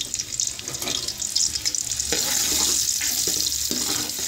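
Onions dropped into hot cooking oil over a high flame, giving a loud, steady sizzle that swells and holds near the mic, with a few crackling bursts and no talking.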